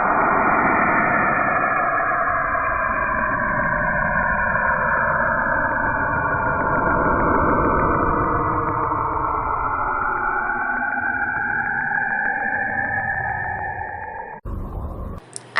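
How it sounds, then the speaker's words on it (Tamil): Sonified space recording said to capture the planet Uranus, heard as a loud, steady, windy rushing roar with slowly shifting whooshing swells, continuous for the whole span before a brief break and a short different burst at the very end. "அதனாலேயே அதோட சவுண்ட் விண்டி, அதாவது காத்தடிக்கிற சவுண்டு தானா."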